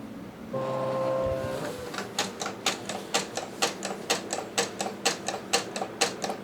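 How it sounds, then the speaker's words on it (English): A vinyl cutting machine sets its blade depth and speed, first humming steadily, then ticking and clacking in a quick, even series of sharp mechanical strokes, close and fairly loud. "It's in this process that the machine is dialing in the depth of the blade and the speed of it."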